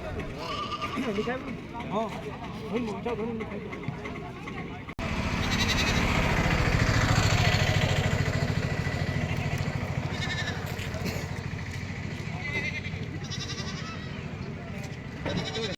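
Goats bleat repeatedly at a crowded livestock market, wavering cries heard under nearly constant conversation and a busy background din, with a rumbling engine-like drone joining partway through.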